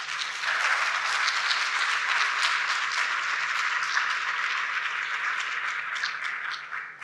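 Conference audience at a disaster-readiness summit clapping warmly to welcome a keynote speaker, a dense, steady applause from many hands that fades out toward the end.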